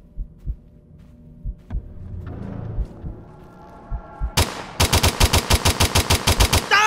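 Gunfire in a video game as a full magazine is dumped into a mimic: sparse thuds and a few lone shots give way to a rapid, loud, evenly spaced string of automatic rounds.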